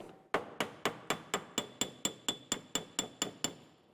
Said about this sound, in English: Got our hammer and dolly here.